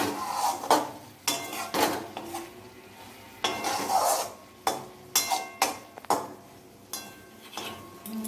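A spoon scrapes and stirs cooked bok fish curry in a metal pan in repeated short bursts, near and fairly loud, with light clinks against the pan between strokes.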